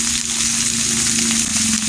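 Beans and cauliflower hit hot oil in a frying pan with a loud, dense sizzle that crackles steadily and close up throughout, with no voices over it.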